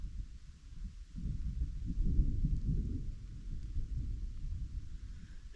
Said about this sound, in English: And the thunder rolls and the lightning strikes.